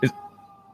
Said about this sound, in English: There is an actual siren going on in the background.